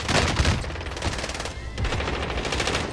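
Rapid automatic gunfire from Call of Duty Cold War Warzone comes in two dense bursts separated by a short pause, loud and close with heavy echo.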